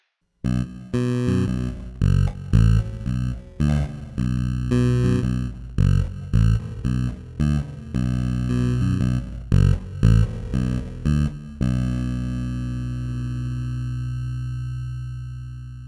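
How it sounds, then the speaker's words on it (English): Bass guitar played through a bitcrushing effect, a gritty lo-fi distortion. It plays a rhythmic run of short, buzzy, stepped notes, loud and close, then one sustained note rings out and fades over the last few seconds. "Let's try an awesome but less commonly used effect, bitcrushing."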